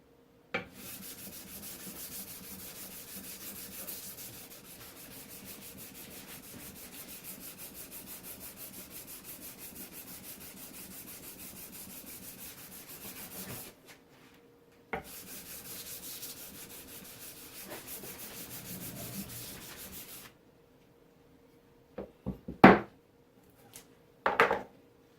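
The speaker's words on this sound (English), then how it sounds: "Flip my sandpaper around. It loads up pretty fast." Sandpaper rubs back and forth over a refurbished wooden hand plane in long, continuous rasping strokes, close and even, broken by a pause, then a few clunks as the paper and plane are handled, without speech.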